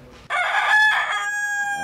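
A rooster crows once, loud and close, a long ringing cock-a-doodle-doo that starts abruptly and trails off, with faint quiet background before it.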